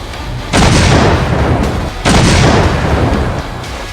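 Pakistani army mortar fire across the Line of Control lands as two heavy, loud booms about a second and a half apart, each followed by a long rumbling decay.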